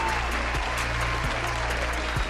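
Crowd applause plays during a live wrestling talk show, a broad, even wash of clapping sitting over a steady low electrical hum, with faint rhythmic bumps recurring every half second or so.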